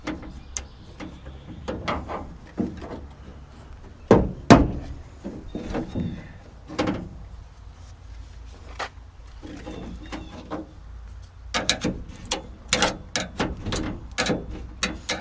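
A hammer knocks classic car window felt into its channel: irregular sharp, close taps and knocks, some in quick clusters and others separated by quiet pauses, with no talking.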